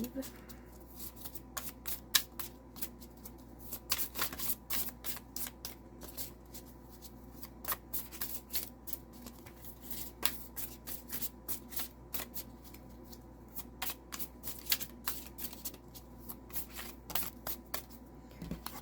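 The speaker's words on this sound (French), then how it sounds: "On continue de brasser." A deck of tarot cards is shuffled over and over, giving repeated crisp riffles and soft slapping rustles in uneven bursts close to the listener.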